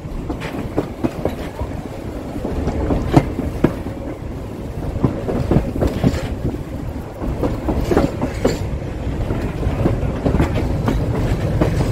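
Riding aboard the 1880 Train in Keystone, South Dakota, during the Sturgis Rally: a steady, loud rumble of rail cars with a continuous clickety-clack of wheels over the track joints.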